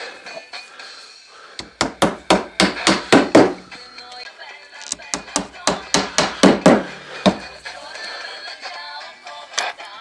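Hammer taps fastening small strips onto a wooden beehive body at an apiary: two bursts of rapid, sharp, close strikes on wood, each about a dozen blows, separated by a quieter pause and followed by a single final knock.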